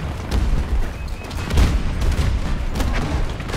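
A grenade blast in Battlefield 2042 rumbling amid a dense, continuous din of gunfire and explosions, with a heavier low thump near the middle.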